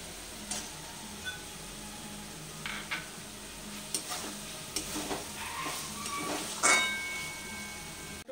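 Tomato goes into spiced oil in a pan and sautés with a soft, steady sizzle, punctuated by scattered scraping and tapping of a stirring utensil against the pan.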